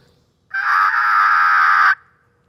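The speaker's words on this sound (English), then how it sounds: "Now when I get that sound coming out of that mouth call," A turkey mouth diaphragm call is blown in one steady, sustained note. The reedy, even tone lasts about a second and a half against a quiet background.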